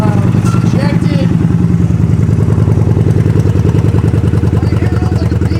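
A Kawasaki Vulcan 900 motorcycle with 27,000 on it idles nearby in a loud, steady, rhythmic engine pulse, while someone talks over it.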